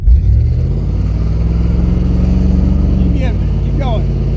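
A car engine revs hard and steadily during a burnout, loud and sustained, with a brief bright squeal near the end.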